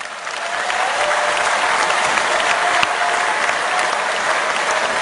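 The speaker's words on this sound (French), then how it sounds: "Pouvez vous applaudir bien fort." Loud, sustained applause from a large audience at the WorldSkills 2023 opening ceremony in Lyon, a thick wash of clapping that swells in and stays strong.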